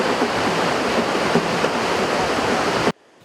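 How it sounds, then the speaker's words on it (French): Ocean surf breaking on a beach in Senegal, a steady broadband wash of rushing water with loud continuous roar that cuts off abruptly near the end. "Sur ces vagues, Ali et son élève vont surfer"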